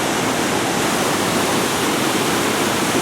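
A mountain river in the Kalash Valley, swollen with rain and snowmelt, roars in a steady, dense rush of water that is loud and close and continuous throughout, with no voices over it.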